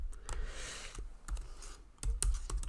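Typing on a computer keyboard at a desk, quick irregular bursts of close key clicks with short pauses between, fairly loud and without talk.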